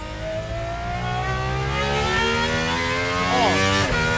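A high-revving Gordon Murray GMA T.50s V12 engine roars steadily, pitch climbing through the rev range with a brief shift and surge near the end, loud and close.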